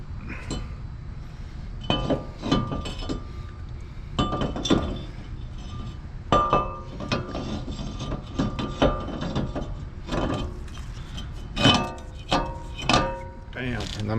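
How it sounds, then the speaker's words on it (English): A brake rotor slid onto the front hub of a Honda Civic during a wheel bearing replacement, giving a series of close metallic clinks and clanks with short pauses between them. "Let's go ahead and put our rotor on."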